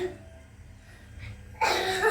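One person sneezes indoors, a single abrupt, loud burst after a stretch of quiet background.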